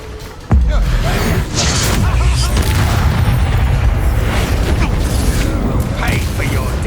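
Bombarda spell blast in Hogwarts Legacy: one sudden loud explosive burst near the start, followed by sustained rumbling, clattering combat noise and mechanical crashing that stays loud throughout.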